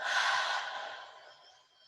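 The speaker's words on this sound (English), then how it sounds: "Take a deep breath in and breathe out." A slow, deep breath released in a long airy exhale that starts full and close and fades softly over about two seconds, during a calm guided breathing exercise.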